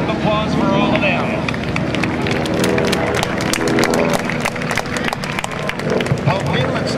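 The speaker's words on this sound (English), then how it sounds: "Would you join me in a great round of applause for all of them?" A large outdoor crowd at the Blue Angels homecoming airshow at NAS Pensacola gives a sustained round of applause, dense and loud clapping that carries steadily throughout with some crowd noise mixed in.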